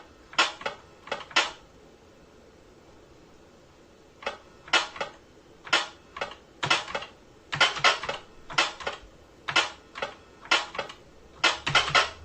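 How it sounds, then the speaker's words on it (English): Clattery clicks of a noisy computer keyboard that needs oil come in quick bursts of keystrokes separated by short pauses, close and crisp with no talking. "It's a noisy keyboard. It needs a bit of oil."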